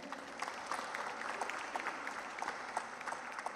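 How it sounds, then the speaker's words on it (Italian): An audience at an Italian-language event on refugee assistance in Moldova claps in a soft, continuous patter, heard from a distance and sustained evenly throughout. "Un applauso per favore."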